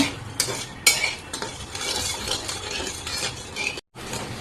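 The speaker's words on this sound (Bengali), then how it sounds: "আমি এখন ভালোভাবে নেড়ে ছেড়ে চিনির শিরা বানিয়ে নেব" A spoon stirs sugar syrup with cinnamon leaves in a pot, giving continuous close scraping and clinking against the metal, with a brief dropout near the end.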